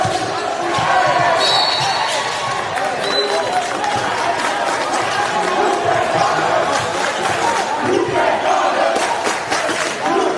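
Crowd noise fills a basketball arena as Adelaide Warriors supporters chant and shout steadily throughout, loud and dense, with scattered cheers rising over the mass of voices.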